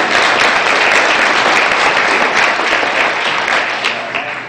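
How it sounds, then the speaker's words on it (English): Dense, steady applause from an audience at a Wisconsin fair pageant, honoring four candidates, loud and sustained without talk before tapering slightly at the end. "One more round of applause for all four of our candidates this season"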